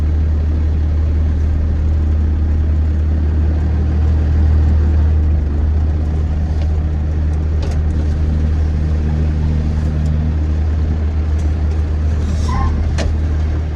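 A 12-valve Dodge W350 truck, back on the road after a decade of sitting, drives on a test spin with a steady, loud low diesel drone and rumble throughout and a few faint clicks and rattles near the end.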